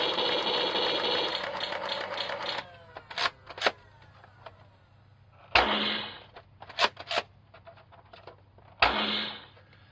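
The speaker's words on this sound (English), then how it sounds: "It's got the kind of grenade explosion, it's got the gunfire, and then the out of ammo sound." A Nerf Aliens Pulse Rifle toy plays its electronic effects through a small speaker: a crackling burst of gunfire, sharp mechanical clicks, and brief noisy blasts suggesting a grenade explosion and an out-of-ammo sound, all fairly quiet.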